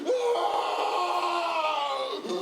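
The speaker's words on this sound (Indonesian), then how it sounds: "ada suara teriakan ya?" A single drawn-out scream, strained and wavering, carries at moderate loudness over a quiet background for a couple of seconds before trailing off.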